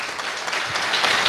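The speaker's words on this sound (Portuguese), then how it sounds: "Dá uma salva de palmas para o doutor Jesus." Church congregation applauding together, a dense steady clatter of many hands clapping that holds evenly throughout and builds slightly toward the end.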